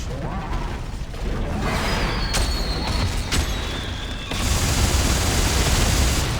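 Fireworks-like explosions in the video game Dead Space 3: a dense, loud rumble of popping and crackling blasts with sharp cracks in the middle and a heavier roar near the end, with mechanical clatter underneath.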